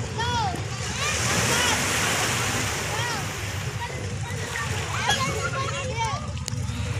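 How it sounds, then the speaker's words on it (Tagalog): Children splashing while bathing in the sea, a continuous wash of splashes and surf with excited high voices and shouting throughout, fairly close. "Mga bata naligo sa dagat."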